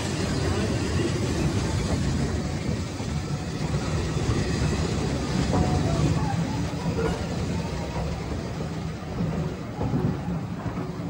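A heritage steam train with an observation bar coach rolls past at the Foxfield railway gala, a steady, dense rumble and clatter that holds loud throughout, with no distinct voices above the noise.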